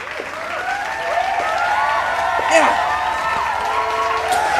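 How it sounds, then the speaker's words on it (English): Applause with cheering and whoops from a small group outdoors in a forest after building a fort, the clapping rising and holding steady while excited voices call out over it. "Give a round of applause for him."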